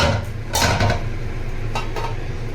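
Fried fish goes into an eggplant curry in a pan, with a clatter of metal on the cookware and a few utensil clinks over a steady low simmering background.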